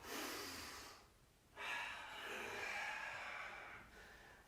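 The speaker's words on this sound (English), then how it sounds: "Inhale and exhale." Steady breathing in and out during a power yoga class, close and fairly loud, with a long exhale, a brief quiet gap, then another sustained breath.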